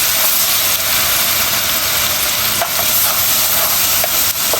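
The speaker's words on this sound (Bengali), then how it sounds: "রসুনটাকে ভালো করে লাল করে ভাজা হবে যাতে করে কলিজি ভুনাটা দেখতে সুন্দর আসে।" Garlic, bay leaves and whole spices fry in hot oil for a Bangladeshi Eid-style beef liver bhuna, a loud continuous close sizzle with occasional stirring clicks and no talk.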